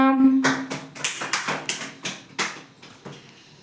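Schoolchildren in a kids' English class applaud a classmate, a short burst of scattered hand claps after a brief voice, close and fading toward the end.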